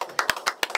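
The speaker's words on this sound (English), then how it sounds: "Y'all clap it up for yourselves though." A handful of quick, sharp claps in an uneven rhythm, fairly faint and brief, from a small group of people at a casual blind-date gathering.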